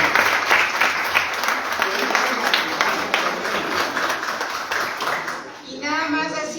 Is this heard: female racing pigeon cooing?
no